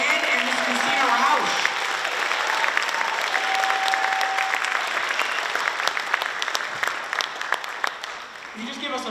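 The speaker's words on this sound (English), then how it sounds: "Can we give another round of applause to the 5th grade band and Miss Christina Rausch?" A school concert audience applauds the 5th grade band, sustained crowd clapping that holds steady for most of its length before easing slightly, with faint voices mixed in.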